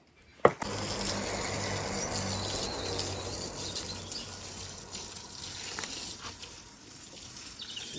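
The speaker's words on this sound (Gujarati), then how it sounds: "બધું પાણી નહીં છાંટવું" Water splashes steadily over a patch of freshly sown grass seed in a garden, a continuous moderate hiss of falling spray after a brief knock at the start, with no talking.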